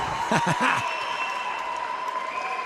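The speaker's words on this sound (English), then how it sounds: "Take a look at this crowd here in the Campo Pequeño bullfighting ring." Crowd noise fills the Campo Pequeño bullfighting ring during a combat sports fight, with a burst of shouts near the start settling into a steady, moderately loud roar, and a commentator talking over it.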